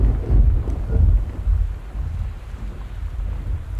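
A storm rages outside the house in the Gone Home video game, a steady low wind-and-rain rumble with heavier gusts swelling near the start, continuous and fairly loud with no voices.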